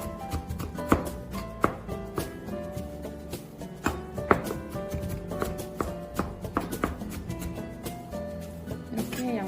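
A knife minces onion on a cutting board in quick, irregular chopping taps, close and fairly quiet, with a faint hum of background music.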